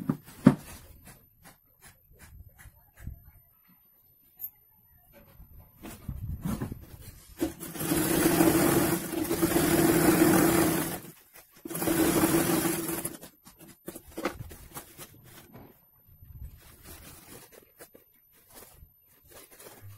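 A sewing machine stitching blouse fabric into a bag, running in several bursts of rapid mechanical whirring with soft handling noises and pauses in between.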